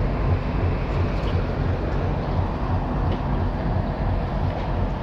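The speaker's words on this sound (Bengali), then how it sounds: "খুব সুন্দর একটা সকালে ট্রেন বর্ধমান স্টেশন ছেড়ে বেরিয়ে যাচ্ছে" Padatik Express pulling out of Bardhaman station on a morning run, a steady rumbling roar of the moving train heard from inside at constant loudness.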